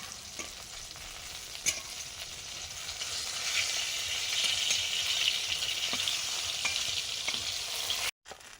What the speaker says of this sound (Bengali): এদিকে বেগুন ভাজাও হচ্ছে।